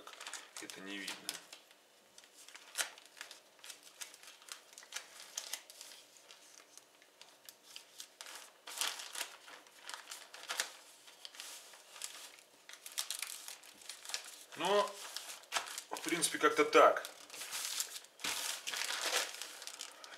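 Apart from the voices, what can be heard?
plastic mailing package being folded and crinkled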